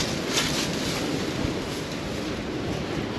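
Strong wind buffets the microphone in a constant, rough roar with no voices, at the Canal du Loup in the Alpes-Maritimes, France.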